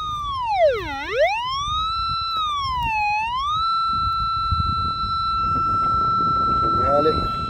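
A Golden Mask Deep Hunter metal detector gives a loud electronic signal tone that swoops down and back up in pitch twice, then settles into a steady held note, with low rumbling background noise underneath.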